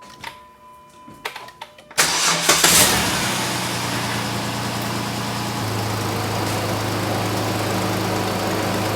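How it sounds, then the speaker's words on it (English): A Jeep JK 3.8 liter engine cranks after an oil pressure sender replacement, then catches with a loud roar and settles into a steady close idle, preceded by a few faint clicks and knocks. "I'm going to crank it, see what happens."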